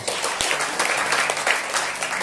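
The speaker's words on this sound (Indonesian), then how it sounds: "Tepuk tangan lagi." Dense, loud audience applause fills a church gathering at a family blessing service in Jakarta, a steady wash of many hands clapping for the whole stretch with a faint voice underneath.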